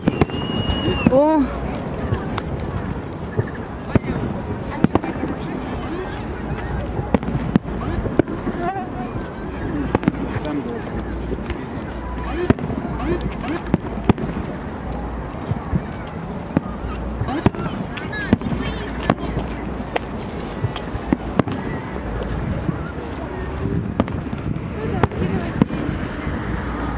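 A fireworks display for the 300th anniversary of Omsk: a rising whistle early on, then sustained crackling, popping and dull booms for nearly half a minute, with onlookers talking throughout.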